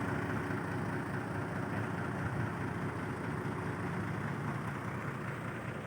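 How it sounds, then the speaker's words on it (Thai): A truck engine idles steadily after sitting unused for a long time, left running in the early morning to warm up. It makes a continuous, even low rumble throughout with no revving. "เอา รถมา ขึ้นไว้ รอเลย หลังจากรถ ไม่ได้ทำงานนานเหมือนกันนะครับ พี่ น้อง ต้อง ฟรี ไว้ สัก พัก นะ"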